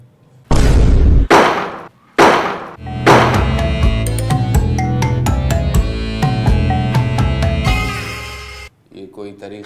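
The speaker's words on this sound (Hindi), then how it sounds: "ये कोई तरीका नहीं है तुम्हारा दस्तक देने का।" Loud, heavy knocks bang on a door in a 90s Hyderabadi comedy scene. Three forceful thuds come in quick succession and are followed by a dense stretch of music.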